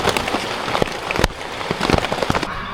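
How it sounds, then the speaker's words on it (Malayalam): Heavy rain pelts a solo night campsite, a close, uneven patter of drops striking surfaces with sharp crackling hits scattered through the steady wash. "മഴ തുടങ്ങിയിട്ടുണ്ട്, നല്ല മഴ പെയ്യുന്നുണ്ട്."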